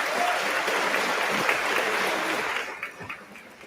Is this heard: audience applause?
yes